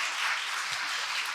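A church congregation at a special dawn prayer service claps together, a brief, faint, even patter of many hands heard from a distance.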